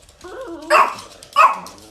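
A dog lets out two sharp, loud barks close by, about half a second apart, with other dogs in the household and no talking over them.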